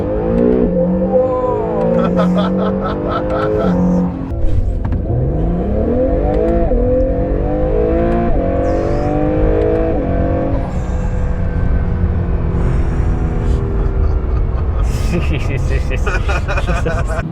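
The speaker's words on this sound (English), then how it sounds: "the last 2 NSX reviews where I launched both cars" Acura NSX sports cars launch hard, the engine revving up through rising, sweeping gear pulls with shifts in between, loud and close, while a person talks and exclaims over the noise.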